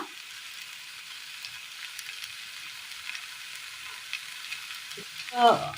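Sautéed tomato with curry leaves fries in a pan for a Kerala curry, making a thin, steady high sizzle with faint crackles and a louder stirring scrape near the end, close and without talk.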